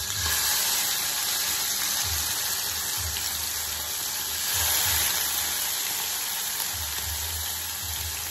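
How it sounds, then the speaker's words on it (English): Constant loud sizzling hiss of fish frying in a pan for fish stew fills the clip, with soft low thumps now and then and no talking. "Let's see how well our fish is frying."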